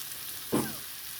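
Jackfruit seeds frying in a pan get one quick stir, a brief scraping swish over a soft continuous sizzle.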